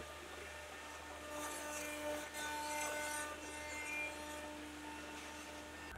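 A CNC machine makes roughing passes along rotating stock with a half-inch cutter while running a spiral hollow twist toolpath, giving a steady, close grinding rasp with a constant motor hum and slight swells in intensity.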